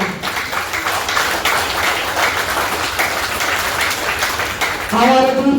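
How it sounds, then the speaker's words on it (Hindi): A crowd at a BJP office event held for the 300th birth anniversary of Maharani Ahilyabai Holkar claps loudly and steadily. The applause is dense and continuous, and a voice cuts in near the end. "तो बुरा मत मानना और जोर से ताली बजाना।"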